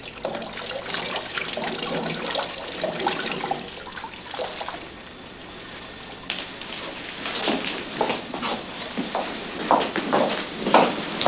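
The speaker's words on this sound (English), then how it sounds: "Kelly, I'm going to wash your neck with some soap and water" Water splashes and trickles in irregular bursts as a neck is washed with soap and water before surgery, close and moderately quiet, with no speech.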